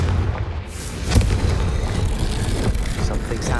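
A Confringo fire-spell blast in the video game Hogwarts Legacy gives a single sharp booming burst near the middle. It sits over a steady, dense rumble of game ambience and stays loud throughout.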